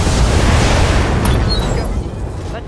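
Mech weapons fire and explosions rumble in the BattleTech video game, a dense, loud roar of blasts that swells and then fades toward the end.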